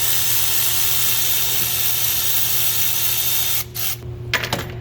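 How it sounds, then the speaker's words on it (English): A Milwaukee quarter-inch impact driver on 8mm bolts on a 6.7 Ford diesel whirs with a steady high-pitched whine, then cuts out into a couple of short bursts near the end, close and loud. "Rip them out with the old Milwaukee quarter."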